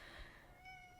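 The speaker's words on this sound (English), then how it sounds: "That's the cat." A house cat gives a short, thin meow, faint and somewhat distant in a quiet room with no talking over it.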